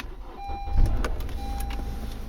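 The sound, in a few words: Honda Accord 2013 engine starting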